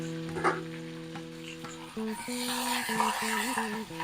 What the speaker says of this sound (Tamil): வெண்டைக்காய் வதங்கிடுது.